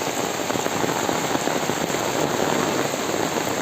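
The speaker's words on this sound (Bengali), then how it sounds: "বৃষ্টি এই যে দেখেন বৃষ্টি গ্রামের গ্রামগঞ্জের বৃষ্টি" Steady, dense rain patters loudly on surfaces close by in a village, an unbroken wash of drops with no voices.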